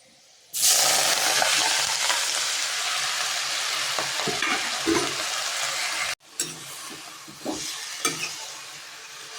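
White goosefoot greens hit a hot oiled pan with a sudden loud sizzle that holds steady, then breaks off briefly and returns softer, with scraping stirring strokes.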